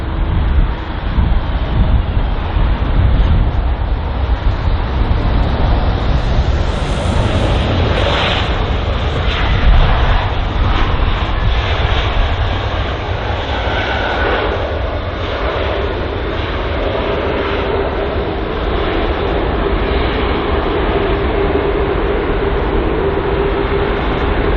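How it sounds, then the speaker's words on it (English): A British Airways A320neo airliner arriving at London Heathrow from Larnaca gives a loud, continuous broadband jet roar that stays steady for the whole stretch, with no talk over it. "the aircraft just arriving here is the British Airways A320neo,"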